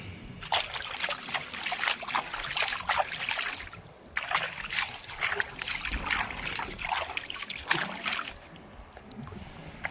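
Water is poured and splashed over a fishing net to wet it before use outdoors, producing a continuous close trickling and splattering in uneven bursts with a short pause midway.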